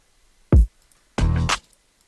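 A programmed kick drum hit, a single deep thump, followed by a brighter, noisier percussive sample in a hip hop beat, both heard alone with no talking.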